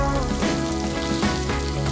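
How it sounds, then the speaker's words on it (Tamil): Ginger, garlic and green chillies sauté in hot oil in a pan, a steady, close sizzle and crackle that holds evenly throughout with no talk. "இதையும் சேர்த்து நல்லா வதக்கிக்கலாம்."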